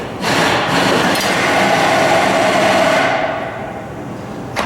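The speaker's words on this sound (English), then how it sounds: "take a hammer and just knock them off, the drive shaft and the yoke" Metal hammering rings out in a workshop as a hammer knocks bearings off a drive shaft and yoke, a few sharp knocks followed by a sustained metallic clatter and ringing that fades away.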